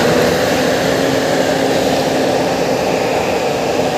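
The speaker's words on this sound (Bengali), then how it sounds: "লঞ্চ ছেড়ে চলে যাচ্ছি শান্তিপুর দিকে" A river launch pulling away toward Shantipur, its engine a loud, steady, unbroken drone that fills the whole stretch, close by and with no voices over it.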